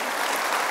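Brief burst of dense audience applause at a talk on structural heart disease treatment, steady and fairly loud throughout, with no voices over it.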